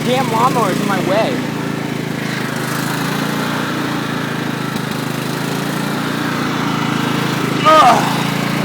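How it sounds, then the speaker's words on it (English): A lawn mower engine runs steadily close by, a constant drone throughout, with a few short faint high squeaks and a brief louder burst near the end. "The damn lawnmower is in my way."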